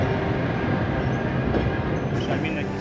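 A period locomotive and wagons at Budapest's Western Railway Station: loud, continuous rolling rail rumble with metallic clatter and faint squealing overtones, with a voice briefly heard beneath the noise.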